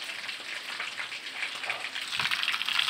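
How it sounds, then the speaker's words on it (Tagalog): Pieces of vinegar-braised tulingan (bullet tuna) paksiw fry in a pan, giving a steady, close crackling sizzle that swells slightly louder toward the end, with no voices. "So ito na po yung ating piniritong paksiw na tulingan."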